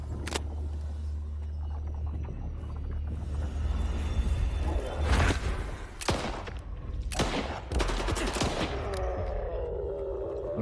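Gunfire in the S.T.A.L.K.E.R. 2: Heart of Chornobyl video game, several loud separate shots and short bursts over a low rumbling background, no talk.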